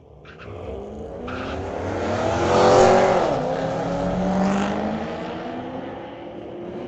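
A Corvette at Mission Raceway Park street-legal drag night launching and roaring off, engine note climbing and shifting as it accelerates away, loud and fairly close before fading into the distance.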